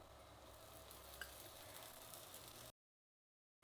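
Oil sizzles steadily on a hot griddle while a thin roti cooks, a close, even frying hiss that cuts off abruptly near the end.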